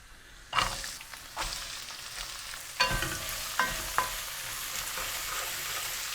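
Onions, cumin and mustard seeds fry in a little oil over high heat, a soft continuous sizzle punctuated by a few distinct spoon clacks and scrapes against the pan, with no talking.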